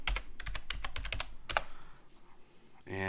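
A password is typed on a computer keyboard, a quick run of close, crisp keystrokes in uneven bursts, followed by a short pause and a brief tonal chime near the end.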